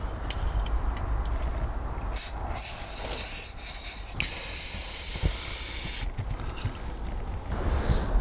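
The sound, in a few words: carb cleaner spray cleaning clogged filter on Golf GTD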